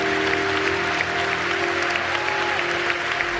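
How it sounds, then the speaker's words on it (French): An audience inside Saint-Sulpice church applauds with dense, steady clapping that fills the space and holds at an even level from start to finish. "vous pouvez applaudir"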